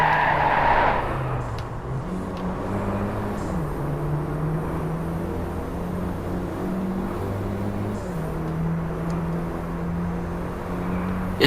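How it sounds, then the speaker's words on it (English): Audi A1 Quattro in the racing game Driveclub drives steadily, its engine note stepping up and down through gear changes, moderately loud with no talk. "This vehicle sounds really nice."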